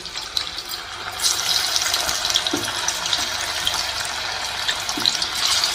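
Raw banana slices frying over high flame in a pan of oil, giving a steady, close sizzle with scattered crisp crackles and pops throughout.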